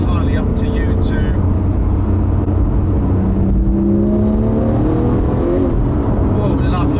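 A Porsche GT3 4.0 with a manual gearbox revs and pulls through the gears, its engine note rising and falling loudly and continuously, with a person talking over it.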